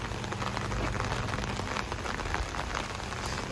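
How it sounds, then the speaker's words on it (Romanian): Rain falls steadily in London, an even wash of dense patter on surfaces, soft and continuous with no voices over it. "Prima zi în Londra și prima ploaie."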